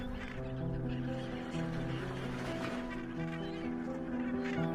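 A dense colony of Cape gannets on a flat, rocky Namibian island, thousands of seabirds calling at once in a steady, overlapping honking and cackling chorus, loud and unbroken throughout.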